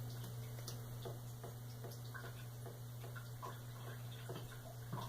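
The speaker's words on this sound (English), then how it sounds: "I'm going to let it drip, drip, drip for a while until it's completely gone." Water drips through coarse sand in a lab funnel, faint irregular ticks and drops over a low steady hum in a quiet room.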